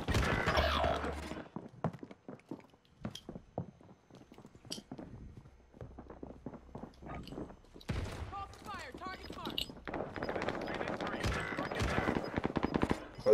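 Gunfire in the Call of Duty: Modern Warfare video game, with bursts of sharp shots and rapid automatic fire scattered through the clip, mixed with in-game effects and a player talking over the action.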